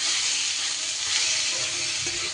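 Long-sliced raw tomatoes hit hot oil and fry with a loud, dense, continuous hiss and crackle that fills the whole moment, close up and with no talking.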